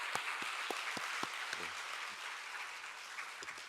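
A church congregation applauding at a special early-morning prayer meeting, with a steady wash of clapping and a few sharper nearby claps standing out across several seconds.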